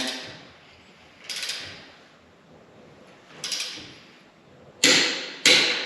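A torque wrench tightens lug nuts on Tesla Model 3 wheels, giving four sharp ratcheting clicks spaced over several seconds, the last two loudest, with low room noise between them.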